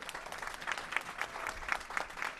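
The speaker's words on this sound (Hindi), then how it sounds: "वो आप लोग तालियां बजाकर उसकी गवाही दें" Crowd applause at a political rally in Punjab, faint and distant clapping with scattered sharper claps, steady in level and no voices on top.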